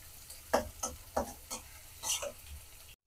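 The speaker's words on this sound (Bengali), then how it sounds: "পেঁয়াজগুলো ভাজা ভাজা হয়ে গেছে" Onions frying in oil in a pan, salted and stirred, for a fish and winter vegetable curry; a soft steady sizzle with intermittent scraping stirs and clicks close by.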